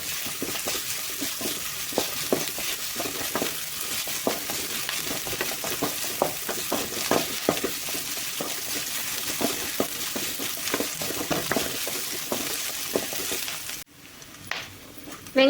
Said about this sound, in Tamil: நல்லா வெங்காயம் வந்து லைட்டாக வணக்கி எடுத்துக்கோங்க.